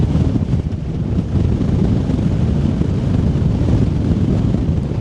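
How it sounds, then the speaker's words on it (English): Strong wind gusts at Meteor Crater, Arizona buffet the microphone in a loud, continuous roar that holds steady throughout with no voices. "Those wind gusts coming out."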